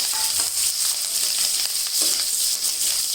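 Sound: green chilies and ginger frying in a pan

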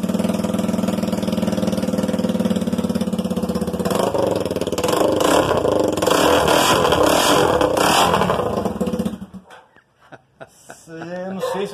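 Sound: motorcycle engine running with its exhaust

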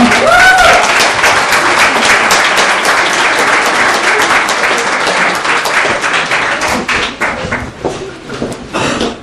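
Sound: audience applause for the karting league winner

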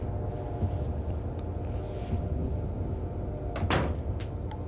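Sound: door opening in video game Silent Hill 3

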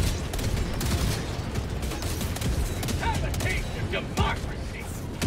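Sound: mortar strikes exploding in video game Helldivers 2

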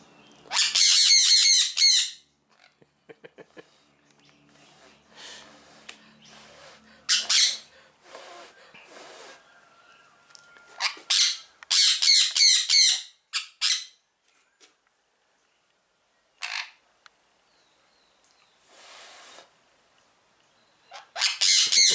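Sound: parrots squawking in an aviary

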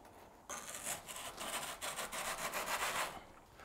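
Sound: applying fiber grip paste to carbon seat post

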